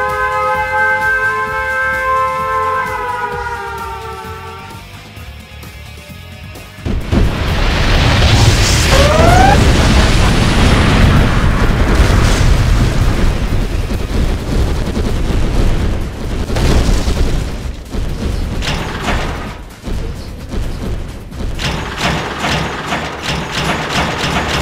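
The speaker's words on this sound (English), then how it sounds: "Warning, nuclear missile launched." A nuclear missile explosion in the Red Alert 2 / Mental Omega strategy game: a massive rumbling blast erupts after a few seconds of quieter game sound and rolls on loud and dense with crackling debris for the rest of the clip.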